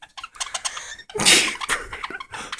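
Pet birds squabbling over a toy, with sharp, scratchy squawks and chirps in a quick, uneven burst, loudest near the middle, close to the microphone.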